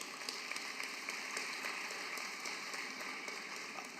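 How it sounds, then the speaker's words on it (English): Graduates at a high school graduation ceremony applaud in a faint, distant, even patter of many hands that continues steadily. "Give yourselves a round of applause."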